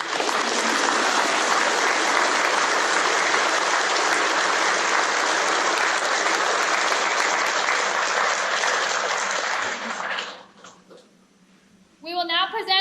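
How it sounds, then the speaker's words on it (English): Sustained, dense applause from a large crowd at a U.S. Army engineers' award ceremony, holding steady for about ten seconds before fading out, then a voice starts speaking. "Give yourselves a round of applause."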